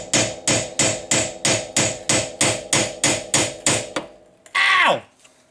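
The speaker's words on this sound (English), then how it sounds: "construction claw hammer" A construction claw hammer strikes repeatedly during a rock light install on an Arctic Cat/Textron Alterra 500 off-road vehicle, about ten sharp, evenly spaced metallic blows, then a loud ringing, descending squeal at the end.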